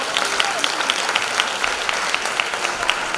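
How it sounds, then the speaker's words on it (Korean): Audience applause at a choral composition awards ceremony, greeting an introduced choir director; steady clapping fills the clip at moderate level with scattered louder claps. "박수 부탁드립니다"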